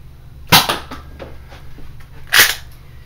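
Nerf Elite Sharpfire blaster, breech loaded by hand and fired with regular darts: two sharp, close snaps about two seconds apart, separated by quieter clicks of handling.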